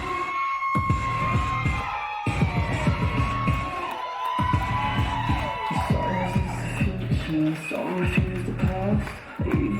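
A large crowd at an FSW wrestling event in a big venue cheers, whoops and shouts loudly and continuously throughout, with some voices standing out above the roar.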